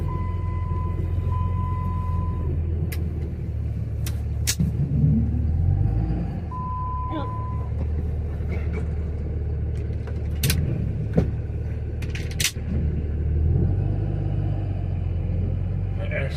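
A pickup truck with a 48RE automatic transmission and a reverse manual valve body, switched to two-wheel drive, drives while plowing snow, producing a constant low engine rumble close by with occasional clunks and knocks.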